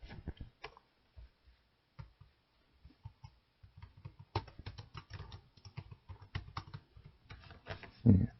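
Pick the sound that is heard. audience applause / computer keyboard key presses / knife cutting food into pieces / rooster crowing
computer keyboard key presses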